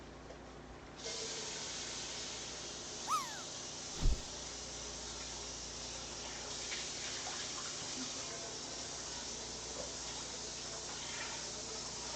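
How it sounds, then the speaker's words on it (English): Tap water running steadily while a non-stick pan is washed, a constant close hiss with a couple of brief clunks of the pan early on. "So I'm gonna quickly wash this pan"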